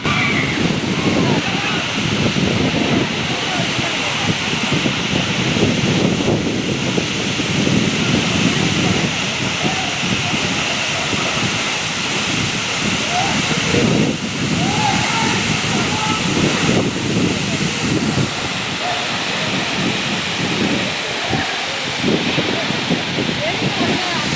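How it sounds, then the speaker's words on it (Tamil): A Kolli Hills waterfall roars in a steady, dense wash while strong wind buffets the microphone and blows spray, continuous and loud throughout, with voices occasionally audible under the noise. "காத்துங்கண்ண ஓவர் அடிக்குது அந்த அளவுக்கு சாரல் அடிக்குது"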